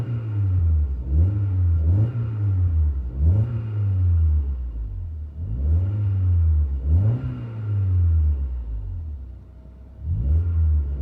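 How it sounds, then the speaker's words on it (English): A 1999 Honda Accord four-cylinder with an Exhaust-Xlerator catback exhaust revs repeatedly, each throttle blip rising and falling in a steady rhythm, a moderate, close rumble with no talk. "Mild to moderate interior tone level with this Exhaust-Xlerator catback exhaust."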